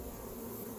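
A dense, steady buzzing of a honeybee colony fills this brief moment, close and continuous.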